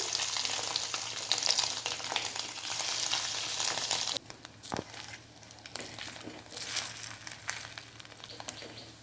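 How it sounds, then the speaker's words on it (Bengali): Loud, steady sizzling of fish roe frying in hot oil, with a sudden drop in intensity midway and occasional stirring clatter. "পরের ডিমগুলোও আমি এইভাবে ভেজে নিচ্ছি"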